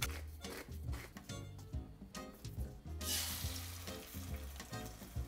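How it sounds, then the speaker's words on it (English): An egg is scrambled in a frying pan, sizzling loudly and continuously while being stirred, with background music playing underneath. "What we're gonna do first is we're gonna scramble an egg and then add some salt and pepper to taste."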